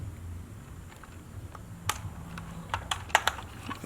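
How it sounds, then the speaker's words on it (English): Light plastic clicks and small taps come in a loose run, growing sharper toward the end, as an Oracle LED tail light is snapped into place on a Jeep Comanche. "So I'm gonna take this one to the top, just click it in."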